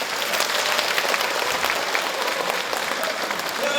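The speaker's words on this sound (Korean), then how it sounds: "다 같이 응원의 박수 한번 더" An audience at a talk concert marking the Andong mayor's second anniversary in office breaks into sustained applause, a thick, even wash of many hands clapping without voices.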